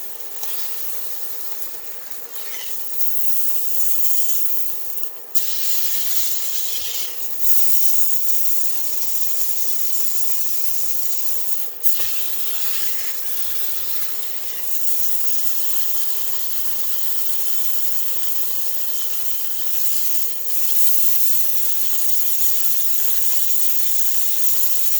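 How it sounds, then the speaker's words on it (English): A sous vide steak sears in a cast iron pan, giving a steady, loud hiss of steam and spitting fat that runs throughout, with a few faint low knocks and clicks along the way. "And we're not cooking it, we're just searing the top of it."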